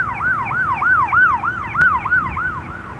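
An ambulance siren wails in a steady rising-and-falling cycle, loud and fairly close, over a low rumble of street traffic, with no talking.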